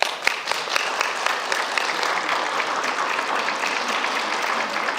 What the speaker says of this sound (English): Please refrain from clapping.